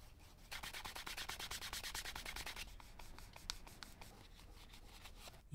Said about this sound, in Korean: 복커널을 이용해서 마감도 좀 미리 해줍니다.